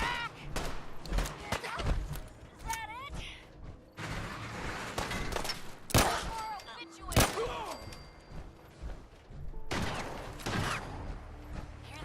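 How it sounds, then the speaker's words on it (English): Heavy gunfire in Fallout 4: loud, sharp blasts at irregular intervals with booming impacts, mixed with clanks and robotic game sounds, and people talking in between. "At least it sounds like a strong gun."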